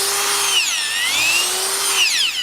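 An auger boring a hole into drying clay, a steady close grinding whir with a gliding pitch that sinks and rises as the bit turns and loads, continuous for a couple of seconds.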